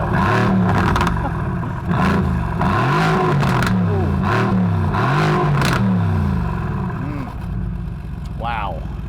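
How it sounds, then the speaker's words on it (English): Mercedes-AMG GT R Roadster V8 starting and revving, a loud close engine note rising and falling through repeated blips in a steady rhythm, then settling, with a short voice near the end. "you probably want to hear what the V8 sounds like"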